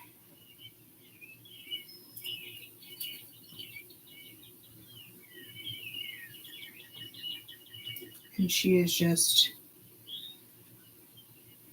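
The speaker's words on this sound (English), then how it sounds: "way too many birds and crickets and oh my gosh" Birds chirp and tweet in scattered bursts outdoors over a constant low buzz of crickets, with a louder flurry of calls or wing flapping near the end and someone talking briefly.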